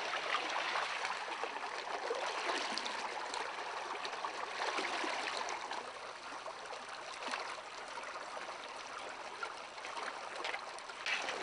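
Cold stream water in the Yukon flows and trickles steadily while gold is panned from a low-dug gravel sample, a continuous close rushing wash with no talk.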